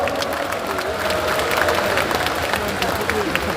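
A large crowd at a Democratic Party national convention applauds Jo Jeong-sik, dense clapping and some cheering in a big hall, steady and moderately loud.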